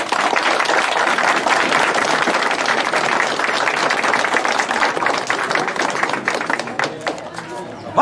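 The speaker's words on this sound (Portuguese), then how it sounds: "Peço aplausos de vocês" Audience applause at a live gospel music performance, sustained dense clapping with a few sharper individual claps, gradually thinning toward the end.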